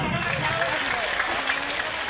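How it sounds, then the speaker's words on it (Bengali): A crowd of girl students applauds at a school annual prize-giving and cultural function, producing steady, dense clapping throughout with a faint murmur of voices mixed in. "একটা হাততালি।"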